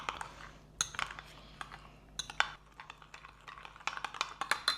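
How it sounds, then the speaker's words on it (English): A spoon stirs bourbon chicken sauce ingredients in a bowl, making quiet, irregular clinks and scrapes against the dish, close by and otherwise still. "we're gonna just stir it all together"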